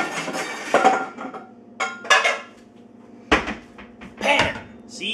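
Metal baking pans and cookware clank and scrape in a kitchen cupboard during a search for a pan, in several loud, close bursts of clatter with quieter pauses between them.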